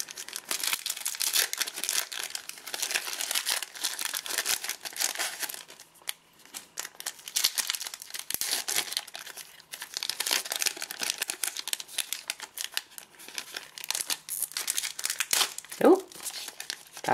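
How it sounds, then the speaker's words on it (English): Foil Pokémon Sun & Moon cereal booster packs torn open and handled, with a continuous run of close crinkling and ripping broken by brief pauses, with talk at times. "That was an awkward pack opening."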